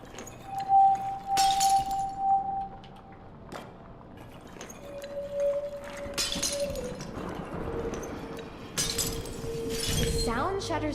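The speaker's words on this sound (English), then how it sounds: "Sound shatters the vases." Vases shatter in a haunted-mansion puzzle of The 7th Guest Remake video game, three separate bursts of breaking glass spaced a few seconds apart, each following a sustained musical tone, with a player's voice talking across the clip.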